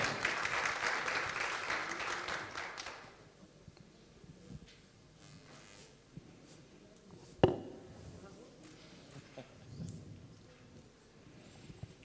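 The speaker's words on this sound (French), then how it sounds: "Sous vos applaudissements." Audience applause at the Consumer Awards ceremony, a dense burst of clapping that fills the first three seconds, then fades to room murmur with a few scattered thumps and faint voices.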